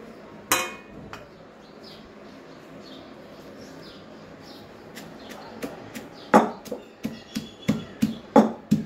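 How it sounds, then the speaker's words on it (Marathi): Roasted coconut, garlic, green chillies and cumin pounded in a mortar and pestle, with one early sharp knock, then a quicker run of close, loud thuds building toward the end, no talk. "आता हे जे भाजलेलं आहे ना खोबरं, लसूण, हिरव्या मिरच्या, जिरं, ते आपण ह्याच्यामध्ये वाटून घ्यायचं आहे"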